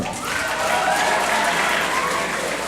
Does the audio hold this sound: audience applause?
yes